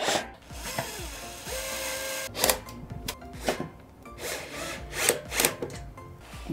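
A power drill whirs in short bursts while assembling a gaming computer desk, stopping and starting several times, with wood creaking and clattering between runs, close by.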